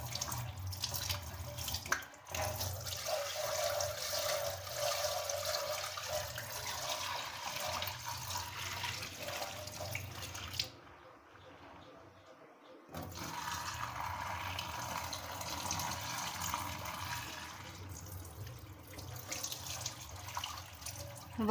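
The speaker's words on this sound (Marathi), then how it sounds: "मी निवळ निवळ पाणी वरचं आहे ना ते ओतून काढणार आहे." Water is poured slowly off soaked khapli wheat starch settled at the bottom of a vessel, a steady close trickle and splash running on with a brief pause near the middle.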